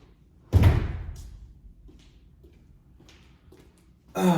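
A tool shed door is shut with one loud, close slam that rings briefly, followed by a few faint knocks and rattles, then another burst of noise at the end.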